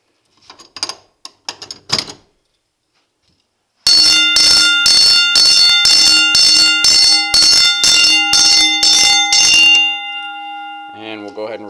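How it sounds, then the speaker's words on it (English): A Simplex vibrating fire alarm bell strobe, set off from an FCI pull station, rings loud and continuous for about six seconds after a few sharp mechanical clicks, then stops abruptly. "the FCI pull with the Simplex bell strobe. It's a vibrating bell."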